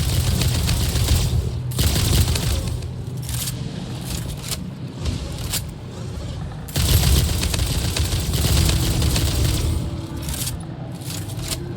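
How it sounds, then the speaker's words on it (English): Gunfire in a factory-building video game, heard as a dense, loud, continuous barrage of rapid shots with two louder bursts, no talking over it. "You're gonna shoot at me?"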